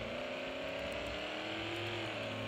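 A regular car's engine hums and revs steadily in a driving video game, a continuous mid-pitched drone with slight pitch shifts, alone and fairly quiet.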